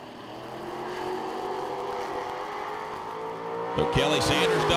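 First-generation and second-generation Chevrolet Camaros drag racing at a summer shootout, with a steady loud engine drone that rises near the end into a sharp, revving roar.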